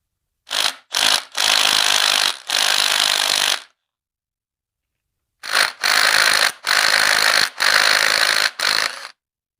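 A Milwaukee M18 cordless power tool working a crankshaft bolt loose, close and loud, in two bursts of short rattling pulses separated by a silent pause.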